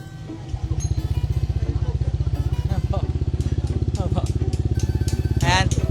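A Honda Click 150 scooter fitted with an ARM Warrior exhaust, silencer removed, idles with a fast, loud, throbbing pulse that stays steady and builds slightly toward a rev at the end.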